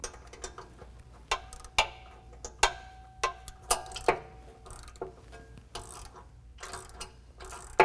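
Ratchet wrench tightening a lock nut on a bumper bolt at the frame horn of a Jeep JL, giving steady close clicking strokes in short bursts with brief pauses between them.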